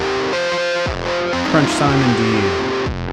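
High-gain distortion preset on an Empress ZOIA effects pedal, heard as a dense, sustained overdriven tone with shifting harmonic notes across about three seconds, partly under a voice.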